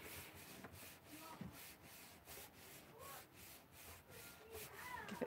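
A hand rubs firmly over a piece of slightly warped watercolour paper card to press it down, making a steady, rhythmic scraping swish that repeats in even strokes, close up, soft and without talking.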